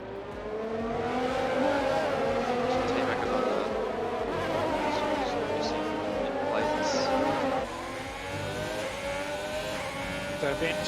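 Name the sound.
Formula 1 race cars racing, F1 2020 video game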